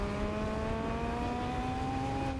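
A car drives in Fortnite with a steady, smooth engine drone that holds an even pitch throughout, loud and close, with no other sounds over it.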